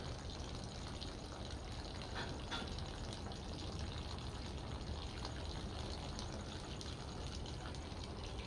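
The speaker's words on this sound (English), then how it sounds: "he's peeing" A dehydrated animal urinating, a faint steady splashing stream of liquid continuing evenly throughout with no talk.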